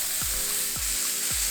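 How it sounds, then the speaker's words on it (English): Bulgogi beef sizzles loudly on a hot cast iron skillet, a constant close crackle with three short low thumps, as if pieces are set down or moved in the pan. "you want to hear a sizzle?"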